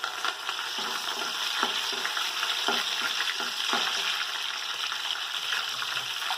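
A handful of fresh mint frying in a pan for chicken biryani, a steady bright sizzle and crackle with periodic scraping stirs, close and continuous, with no voices.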